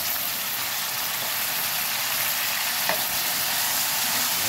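Chicken liver sizzles steadily in a pan with soy sauce and pepper, a loud continuous frying hiss with a brief clink partway through and no voices.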